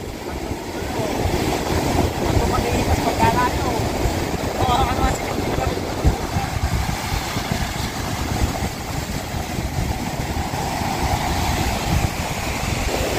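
Rough, angry sea and strong wind heard from aboard a boat, with a steady engine drone under a continuous broadband roar of wind and waves.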